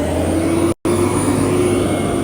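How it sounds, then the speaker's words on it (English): A loud truck passing by outdoors, a steady engine roar close at hand with a brief dropout partway through, then the rumble continuing evenly. "Very loud truck."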